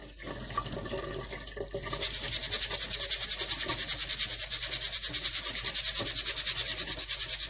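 Cold tap water rushes through rice in a sieve as it is shaken. A loud, steady pour with a fast pulsing rhythm starts after a quieter stretch of trickling and handling.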